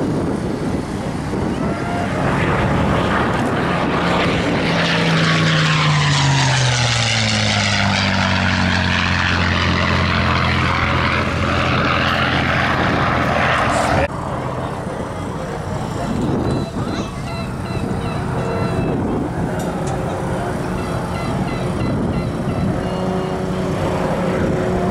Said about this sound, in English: First up, the P-51B Mustang.